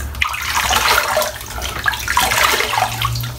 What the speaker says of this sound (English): So we'll wet the face.